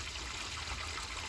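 Water running through an outdoor faucet pipe, a steady, soft hiss and trickle of flow that stays even and fairly faint for the whole moment, with no talk over it.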